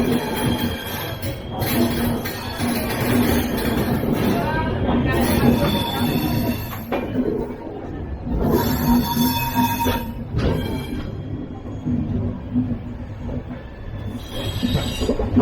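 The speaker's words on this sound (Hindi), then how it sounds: "ट्रेन नंबर 11019 कोणार्क एक्सप्रेस, जो कि मुंबई के छत्रपति शिवाजी महाराज से भुवनेश्वर के बीच पर डे चलती है।" Konark Express wheels squeal sharply on the rails as the train pulls out of Mumbai's Chhatrapati Shivaji Maharaj station, bursts of high screeching recurring over a steady rolling rumble and clatter.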